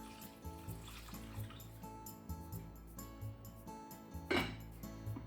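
Water pours into a pot for oden broth with a quiet, continuous trickling splash in a kitchen, faint throughout.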